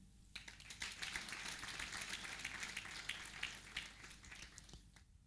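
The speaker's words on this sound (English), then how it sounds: "So allow me to, everyone in the room, to clap, and you as well, to clap for you" A room of people claps at a certificate ceremony for a youth labour-market project, a faint, continuous patter of many hands heard at a distance without talk.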